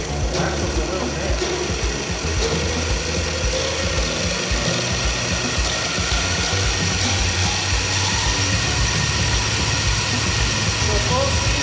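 A 48 volt brushless DC motor fitted to a Razor Dirt Quad spins up to full speed, giving a steady whirring mechanical drone with some ratcheting rattle, loud and close throughout.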